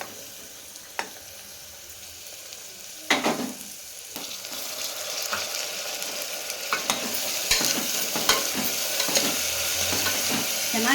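Onion, carrot and beans frying in a pan for mushroom biryani, stirred throughout with a steady close sizzle and sharp scraping clatters that grow busier and louder toward the end, no voices.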